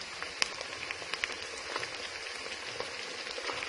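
Onions sauté lightly in a pan for chicken macaroni: a soft, steady sizzle with scattered faint crackles and pops, fairly quiet and close.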